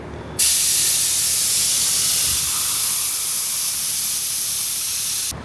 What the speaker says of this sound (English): So just sucking all the fluid out to the line